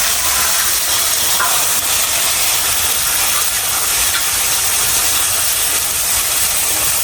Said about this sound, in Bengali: এখন সবজিগুলো দিয়ে দিতেছি।